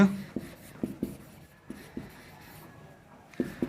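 A marker or chalk writes on a board in a lecture setting, giving short scratchy strokes and soft taps at an uneven pace, fairly close and otherwise quiet.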